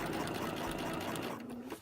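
A sewing machine stitches a seam on a spring coat in a close, rapid, steady whirring run that slows and stops near the end.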